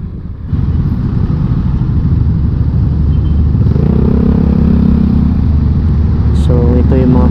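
Motorcycles and cars crawling through heavy traffic, a dense, loud rumble of engines and clatter heard from within the flow, with a brief higher engine whine near the end.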